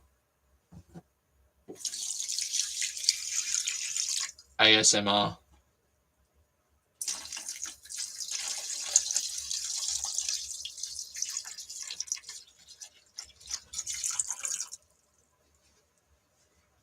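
Water from a tap running into a kettle in two long bursts, a steady hiss broken by a brief clunk of the kettle between them, close by and fairly quiet, with a few spoken words at the start.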